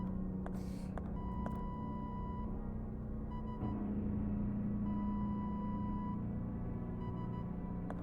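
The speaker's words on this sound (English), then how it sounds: "I actually do wonder if this is Morse code." A few sustained electronic tones in the horror game Tormented Souls, spaced out and fairly faint, sounding over a constant low droning hum with a couple of soft clicks near the start.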